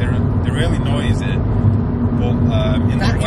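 Michelin Super Sports tyres drone on the road in a BMW M140i, a constant low rumbling roar inside the cabin while people talk over it.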